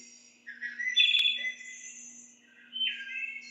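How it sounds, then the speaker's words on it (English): Songbirds whistle and chirp outdoors near a bench: cardinals, vireos, sparrows and flickers. Two clear bursts of calls stand out against a steady low hum, moderately near and alone without talk. "listening to that, and to cardinals and vireos and sparrows and flickers."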